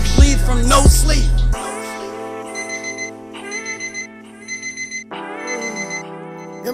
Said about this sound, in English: Your alarm just went off.